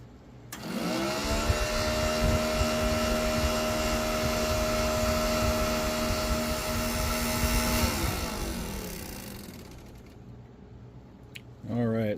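A new-old-stock Stewart Warner South Wind 2 gasoline heater starts up with a steady blower whine and a rough roar. It runs loud and even for about seven seconds, then winds down and fades, and a short clunk comes near the end.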